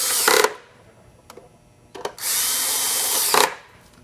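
Cordless drill driving screws into an AV 96 assembly, with a short burst, a few faint blips, then a steady sustained run of about a second and a half, close and loud with no talk.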